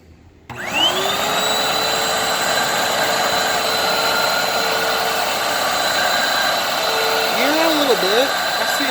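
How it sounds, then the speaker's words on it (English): A Hoover Windtunnel 3 vacuum cleaner starts up and runs on carpet with a steady, loud, close whine and rushing airflow that holds constant throughout, with a brief wavering of pitch near the end. "It's supposed to be their highest suction airflow vacuum, so let's give that a test."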